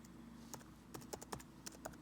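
Typing on a Mac computer keyboard: a handful of light, sharp key clicks in an irregular rhythm over about two seconds, close but quiet, with no talk.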